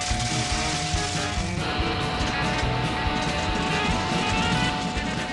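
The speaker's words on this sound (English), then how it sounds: "Here's a powerful engine." A powerful engine runs loudly and continuously, a dense, even roar with a steady tonal whine that holds throughout without pause.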